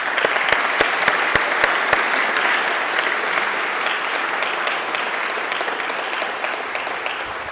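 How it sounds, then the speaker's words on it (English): Steady audience applause at a press conference for World Design Capital San Diego Tijuana 2024, a full, even wash of clapping with a few sharp individual claps at the start, sustained throughout. "Let's give them another round of applause."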